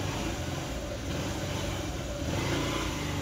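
A motorcycle engine runs loud and close at the start of a bike ride from Pune toward Konkan, holding a steady throaty drone with a slight swell near the end.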